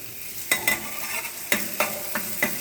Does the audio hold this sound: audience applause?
no